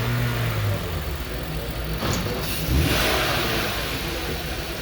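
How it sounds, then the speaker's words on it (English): A car engine at idle is given gas and revs up, the rising engine note sitting close and steady under a constant background hum. "So if we go ahead and give it some gas"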